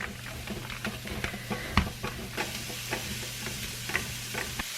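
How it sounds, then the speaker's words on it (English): Italian sausage fries in a pan on the stove, a soft continuous sizzle broken by scattered pops, spatters and occasional scraping clicks. "gonna cook up the sausage, and then while the sausage is starting to cook"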